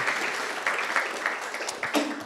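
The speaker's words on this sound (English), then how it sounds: "So give them all an applause" An audience at an energy research conference claps for the panel at the end of a discussion. The applause is continuous, moderately loud and fills the room, with a few sharper individual claps standing out and no talking.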